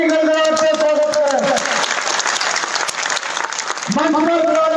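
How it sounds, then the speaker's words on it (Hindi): At a political rally in Narwar welcoming Jyotiraditya Scindia, a crowd applauds in a loud, dense roar of clapping, while an amplified voice speaks at the start and again at the end. "श्रीमान महाराज ज्योतिरादित्य सिंधिया जी का तालियों की गड़गड़ाहट से स्वागत है"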